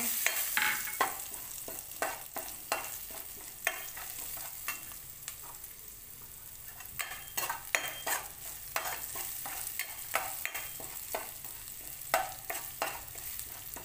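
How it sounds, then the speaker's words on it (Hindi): Green pea kachori filling frying in a pan with green chilli, stirred repeatedly: a steady sizzle under frequent sharp scraping strokes of a spoon against the pan, close and fairly loud, with no voices. "अच्छी तरीके से चलाते रहें ताकि ये जो चिपके नहीं।"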